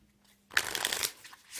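A deck of playing cards being shuffled, a close riffling burst about a second long after a brief quiet start, with no voices.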